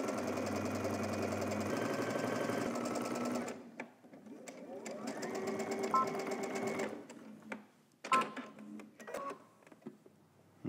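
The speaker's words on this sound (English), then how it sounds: "We're gonna stitch using a 1/4 inch seam allowance here and then also on the other side." A sewing machine stitches a quarter-inch seam on a pocket bag, running in a steady loud burst, pausing, then resuming in shorter runs with faint clicks between.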